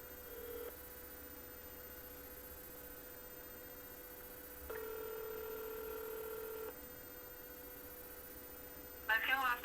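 A telephone dials out to return a call, and the faint tones come as a couple of long steady beeps over a low hum and line hiss. A brief burst of other sound follows at the end.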